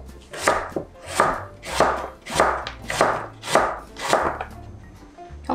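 A knife chops radish on a cutting board for spicy squid and radish soup, cutting through in six steady, evenly spaced strokes, each one a crisp thunk. The chopping is close and clear, with no one speaking.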